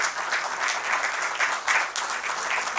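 Steady, dense audience applause following a sitar performance at a cultural concert, a continuous wash of clapping with no pauses.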